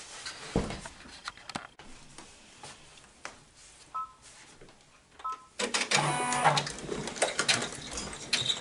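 A Babylock 10-needle embroidery machine stitches a design with rapid mechanical clatter, quieter and intermittent at first, then running loud and continuous toward the end.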